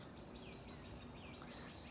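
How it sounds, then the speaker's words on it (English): Birdsong on an outdoor back porch in spring, with faint high chirps and warbling calls drifting at a distance over a steady hiss of background noise. "as I listen to birdsong"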